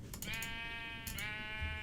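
Sheep in Minecraft bleat twice in quick succession, each call a nasal, wavering cry standing out clearly over a low background hum.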